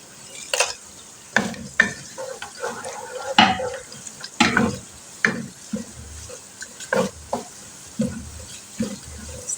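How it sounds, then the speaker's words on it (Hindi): Whole garam masala, including black peppercorns, cloves, cinnamon pieces, star anise and bay leaves, frying with onions in a pot for chicken pulao, heard as a close, steady sizzle broken by repeated scraping stirs at an uneven rhythm. "अब हम इसमें डाल देते हैं गरम मसाले।"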